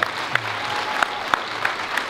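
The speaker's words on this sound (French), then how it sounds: "Je pense qu'on peut applaudir Arnaud qui aura vu 200 fois le film Kaamelott en salle." Cinema audience in a movie theater applauding a fan for a record number of screenings of the Kaamelott film; steady crowd clapping with a few sharp louder claps standing out near the microphone.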